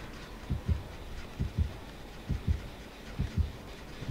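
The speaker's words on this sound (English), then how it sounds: "I'm getting the heartbeat showing up regularly, Ryan" A video game heartbeat effect thumps in regular doubled lub-dub pairs, repeating about once a second, low and steady over a faint background hiss.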